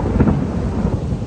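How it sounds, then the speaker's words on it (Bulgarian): A loud, deep rumble of thunder rolls through a heavy rainstorm, with rain hissing steadily beneath it. "Порой, грамотевици."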